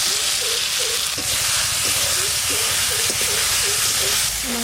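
Potatoes dropped into a spice paste already frying in oil for chital fish muitha, giving a steady, loud sizzle and hiss throughout, with faint clinks of a utensil on the pan.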